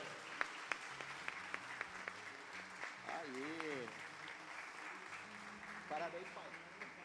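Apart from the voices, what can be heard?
church congregation applauding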